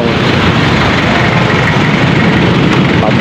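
December road traffic with car engines idling, a loud, steady low rumble running through the whole stretch without breaks, close by.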